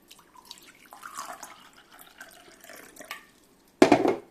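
Water poured into a drinking glass, a short burst of gurgling splash near the end after a stretch of faint drips and handling noise.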